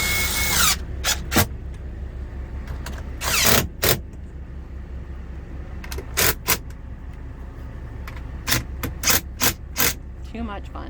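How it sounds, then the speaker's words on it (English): A small impact driver runs in short, sharp bursts, several quick hammering whirrs spaced a few seconds apart, close by over a low background rumble, during rooftop AC unit installation work. "it's the little impact driver"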